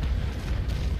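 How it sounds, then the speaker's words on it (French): Dull, heavy booms of cannonballs striking a sailing warship in the naval combat game Naval Action, a short rumbling impact of moderate loudness. "J'ai des boulets qui me tombent dessus"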